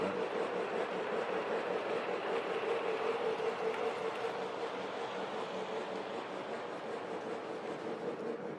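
A Lionel Southern Pacific 4-6-2 Pacific model steam locomotive hauling a consist runs along a model track, a soft, steady whirring rumble that holds at an even, fairly quiet level throughout.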